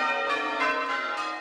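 Church bells ringing in the tower at Longworth, a sustained bright metallic peal with overlapping strikes that rings loudly and evenly throughout, with no voices.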